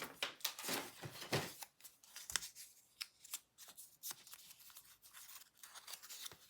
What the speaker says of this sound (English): I'm going to cut out another tab just to make it look extra.